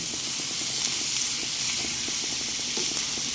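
Shrimp paste (bagoong alamang), bitter gourd and egg sautéing in a pan, giving a constant bright sizzling hiss with faint stirring taps underneath, close and even throughout.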